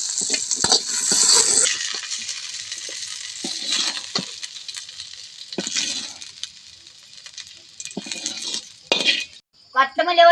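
Fried onions are scooped and stirred in a cooking pot for a mutton gravy, giving scraping and clinking utensil sounds with sizzling in between and a voice talking near the end.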